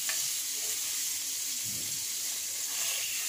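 Fish frying in a pan on a stove gives a steady, close sizzle and hiss, with a few faint stirring touches and no talk.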